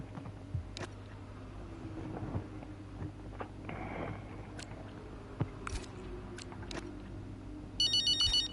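A telephone rings in the F1 25 racing game, a short burst of bright pulsed electronic tones near the end over a low, steady background hum.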